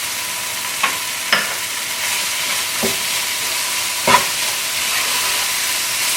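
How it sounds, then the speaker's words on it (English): Basil chili chicken curry frying on high flame, a loud continuous hissing sizzle with a few sharp clinks and scrapes of stirring scattered through, close up and without speech. "keep cooking, stirring for 3-4 minutes on high flame"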